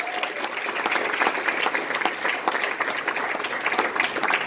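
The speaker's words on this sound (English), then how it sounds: "give another round of applause to them" A live audience applauds steadily at an event honouring two guest speakers, a dense, sustained clatter of many hands clapping at close range with no talk over it.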